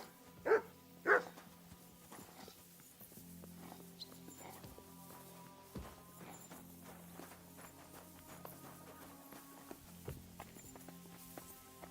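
Two loud barks from Mutt, a dog in the game Kingdom Come: Deliverance II, ring out close at the start, then give way to soft hoof clip-clops and footsteps under low game ambience.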